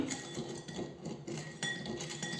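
A spoon scrapes and clinks quietly against a bowl while stirring a mixture, soft irregular taps close by.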